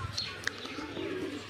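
Pigeons coo softly in a short burst, with a brief chirp and light background noise.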